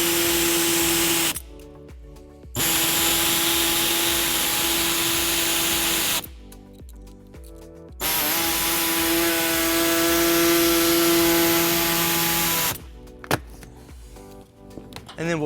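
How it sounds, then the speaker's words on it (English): An air saw trims the bottom of a 2014 Fiat 500 bumper fascia, a loud, steady high-pitched pneumatic buzz running in three long bursts separated by brief quiet pauses, close up. "we'll be using an air saw to cut that out"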